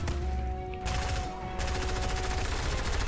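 Rapid automatic gunfire in the video game Fortnite, dense continuous bursts of shots with a brief gap near the middle, steady and loud over a game backdrop.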